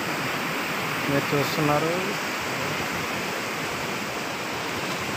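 The overflowing Mattadi stream at Mattadiguda, Adilabad district, sends up a loud, steady roar of rushing water near a bridge, and someone speaks briefly over it.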